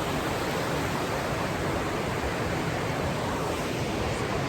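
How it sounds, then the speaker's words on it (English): Steady broadband rush of a river flowing at night in a mountain valley, a constant close wash of water with no breaks and no voices. "you get the sound of the river at nighttime."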